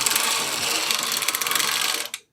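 A restored vintage Ainslie circular knitting machine being cranked through rounds, giving a fast, steady clicking and ratcheting mechanical clatter up close that stops abruptly at the end.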